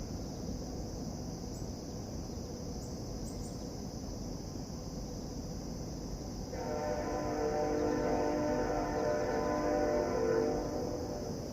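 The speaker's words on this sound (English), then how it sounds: "And a train. I hear a train." A train rumbles in the distance beside a waterway, its sound swelling after about six seconds into a steady low-mid drone with tonal hum, under a constant high insect and cricket buzz; no clear horn blast stands out.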